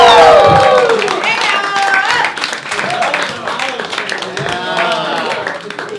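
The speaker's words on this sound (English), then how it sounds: "Everyone, please give a loud round of applause for Black Zeus!" A crowd at a stand-up comedy open mic cheers, whoops and claps loudly, with voices shouting over the applause as it carries on and gradually eases off.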